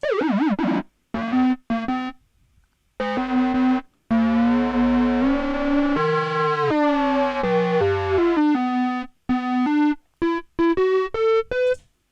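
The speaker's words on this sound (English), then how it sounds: "it's really a distortion in a frequency modulation sort of way" Harsh distorted frequency-modulation synth tones from a Softube Model 72 modular synth, with wobbling, swooping pitch and bursts of warbling vibrato, stopping and starting in loud choppy phrases.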